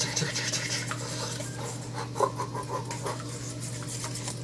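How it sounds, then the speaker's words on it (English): A whisk stirs a mixture in a bowl, making quick, close, repeated scraping and tapping strokes against the sides with a faint steady hum behind, no speech. "I want to whisk everything up."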